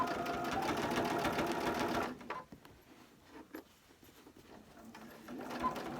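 A sewing machine stitching soft quilting fabric, a fast steady mechanical whir that runs for a couple of seconds and then stops, followed by light clicks and handling of the cloth.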